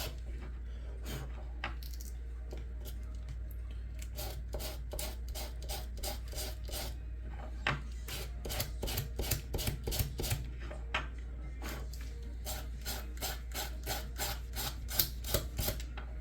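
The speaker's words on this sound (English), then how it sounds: "just brush it at an angle with sandpaper" Sandpaper brushed at an angle across a wooden guitar part, producing quiet repeated scratchy strokes in a steady rhythm over a constant low background hum, close and soft, with no talking.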